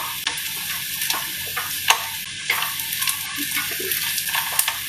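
Onions frying in a pot for sambar rice give a steady, close sizzle with occasional crackles and the scrape of stirring. The sound runs unbroken throughout, with no talking.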